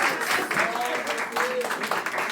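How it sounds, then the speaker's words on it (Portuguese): A church congregation claps for about two seconds, the applause dense and close, with voices calling out over it. "Quem pode aplaudir?"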